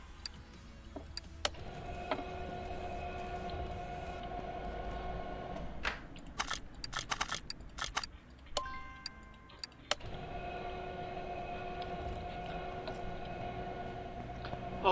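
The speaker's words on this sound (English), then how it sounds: "now let's separate these tires" A tire changer in the video game Car Mechanic Simulator 2018 pulls a tire off its rim, a run of short mechanical clicks and whirring bursts in the middle, set over a steady humming game soundtrack.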